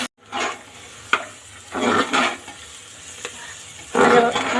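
Crushed ginger and garlic frying in a pan for chana dal, a steady sizzle swelling in louder bursts as the pieces are stirred, with a couple of sharp clinks of a utensil, close and alone.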